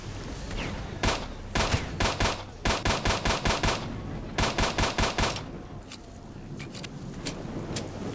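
Bursts of automatic gunfire from the shooter game S.T.A.L.K.E.R. Shadow of Chernobyl crackle in rapid rhythmic volleys, interspersed with scattered single shots and quieter gaps.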